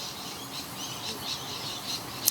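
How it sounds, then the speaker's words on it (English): Birds chirp at dawn outdoors during a Day of Mourning dawn service, giving short, faint, high-pitched calls in scattered bursts over quiet background hiss. "We can hear them chirping."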